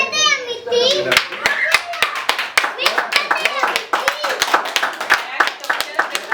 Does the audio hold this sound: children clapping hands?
yes